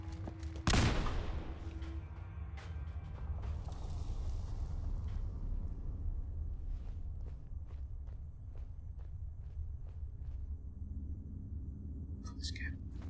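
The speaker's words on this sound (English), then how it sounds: "That's a grenade." A grenade explodes in Fallout 4 Survival mode: one sharp, loud blast near the start, followed by low rumbling game ambience with scattered faint clicks and thuds.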